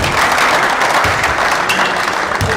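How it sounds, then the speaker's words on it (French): Audience applauding players at a basketball coaching session, a loud, dense, continuous clatter of clapping that fills the space evenly without pauses. "Vous pouvez les applaudir, vous avez été très bons."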